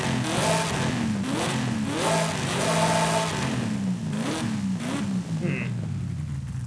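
Supercharged 1996 Chevy Impala engine revving in sport mode in Forza Horizon 5, loud and continuous with rising and falling rev sweeps and gear-change dips, a supercharger whine riding over the engine note.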